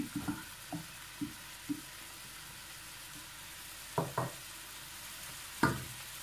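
Chopped shallots fry in hot red palm oil for a dried okra sauce, giving a soft continuous sizzle with several sharper clicks and taps of stirring scattered through, fairly quiet and with no talking.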